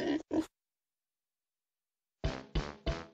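Sung voices imitate pigs oinking on a farm in a children's song: two short grunting bursts, a pause of silence, then three more close, loud oinks in steady rhythm.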